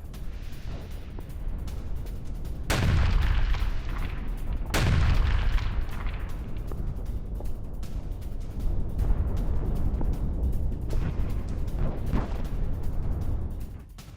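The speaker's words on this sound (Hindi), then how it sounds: "खेर्सोन में रूसी सेना का हवाई हमला हुआ है।" Explosions from a Russian military strike in Kherson during the war in Ukraine, a pair of heavy booms landing a couple of seconds apart over a constant rumbling roar, followed by further distant thuds, with no talk.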